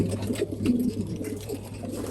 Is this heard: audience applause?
no